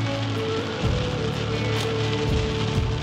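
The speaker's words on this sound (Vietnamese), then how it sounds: "mưa nó đập xuống đường nó tạo ra khói" Rain pelting down onto a hot road surface, a loud, dense, continuous hiss and patter close by, with no talking.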